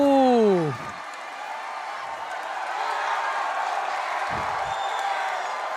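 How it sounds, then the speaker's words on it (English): A home basketball crowd in Malvar, Batangas roars and cheers continuously, loud and sustained, after a brief whistle-like tone at the start. "And Gatdula pumping up the crowd here in Malvar."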